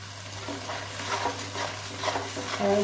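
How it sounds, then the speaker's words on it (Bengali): A ground spice paste for paneer curry stirs and sizzles softly in a pan as it is sautéed, with steady scraping and frying hiss at close range and low volume. "এটা আমি ভালো করে কষে নেবো"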